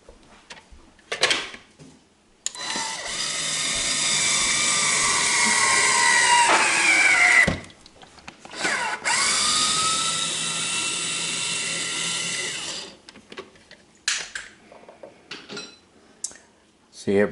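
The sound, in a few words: Vinci hands-free electric citrus juicer juicing grapefruit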